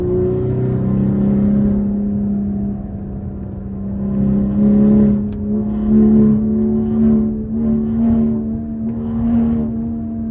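A BMW G30 540i sedan with a 530 hp engine pulls hard through the turns of Big Tujunga mountain road, its steady drone rising and falling in pitch with the throttle, heard from inside the car.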